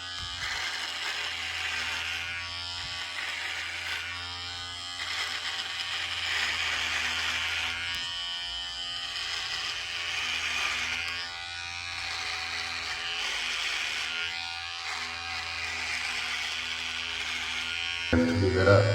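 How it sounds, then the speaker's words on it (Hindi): Electric beard trimmer on setting 3 cutting through a beard, a steady close buzzing drone that holds for the whole stretch with slight changes in pitch as it moves across the face. "बियर्ड ट्रिमिंग टाइम 3 नंबर मैंने काफ़ी टाइम से किया नहीं।"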